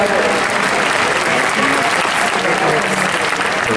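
Spectators at the World Cup Dressage Finals in Paris applaud, a thick, loud, sustained roar of arena clapping with an announcer's voice faintly beneath it.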